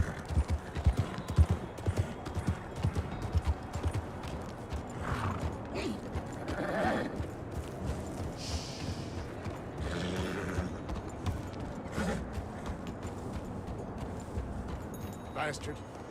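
In Red Dead Online during a snowy blizzard, a horse's hooves clip-clop steadily, with occasional whinnies and creaking tack, under ongoing talk from a player.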